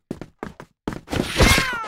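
In a mobile game, a short cat-like meow sound effect rises and warbles after a few quick thumping hits, close and fairly loud, with no voices over it.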